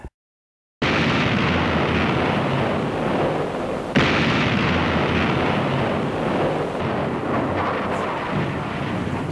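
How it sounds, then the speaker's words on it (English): Heavy rumbling blast from a USS Iowa battleship's 16-inch 50-caliber guns: a loud broadband roar that starts abruptly after silence and rolls on with wind buffeting, plus a second sharp onset midway. "Fire the big guns, the 16-inch 50 guns on the battleship is something special."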